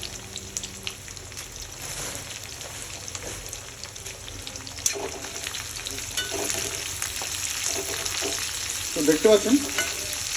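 Spices for chicken kofta, with green chilli and dried Kashmiri red chilli powder, fry in a pan with a steady, close sizzle and stirring throughout, growing slightly louder toward the end as a voice briefly speaks.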